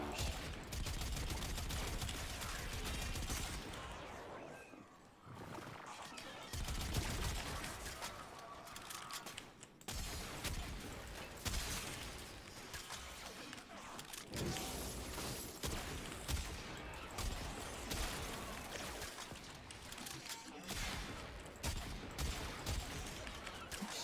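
Cryo turret in the game Warframe firing in dense, continuous bursts of loud gunfire with mechanical clatter, nearly unbroken across the stretch, with brief dips and a voice faintly mixed in.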